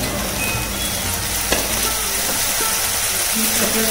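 Chopped onions fry in hot oil with a black cumin tempering for a spicy tangra fish curry, giving a continuous, even sizzle at moderate loudness with a brief clink partway through.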